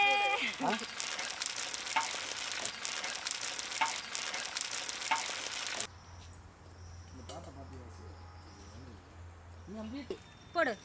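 Peanuts fry in hot oil with a dense, steady sizzle for several seconds, then the sound cuts to a quieter background with faint chirps and talking nearby.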